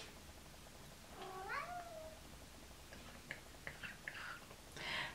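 A house cat meows faintly in a quiet room, first with one drawn-out rising-and-falling meow and then with several short, higher chirps and cries.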